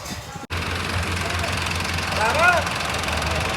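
A tractor engine idles steadily in a Punjab village with a constant low rumble, while faint voices and a brief tonal call rise briefly in the background.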